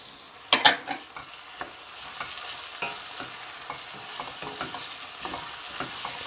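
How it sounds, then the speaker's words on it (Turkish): Carrots and peppers sauté in a pan while being stirred, a soft continuous sizzle with scraping utensil strokes and a sharper clatter near the start. "Şimdi bunlar da biraz yumuşasın kavuralım"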